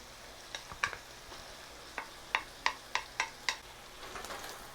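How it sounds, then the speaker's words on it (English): Shiitake mushrooms being stirred in a hot pan, with a soft continuous sizzle broken by a series of sharp scraping and tapping strokes of the utensil, close and fairly quiet. "So now let's get the shiitake mushrooms in there. Give them a little stir around."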